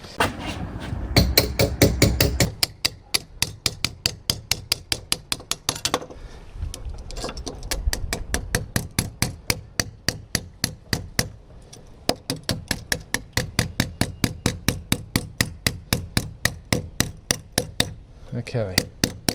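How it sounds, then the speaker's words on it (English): A hammer strikes repeatedly while fitting solar panels, a long run of sharp, rapid metallic blows in quick even bursts with brief pauses between, loud and close. "I'm going to go and get a hammer."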